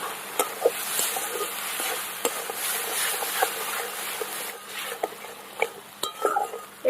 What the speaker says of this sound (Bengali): সব কিছু দিয়ে ভালো করে মশলাটা আগে ফ্রাই করে নিতে হবে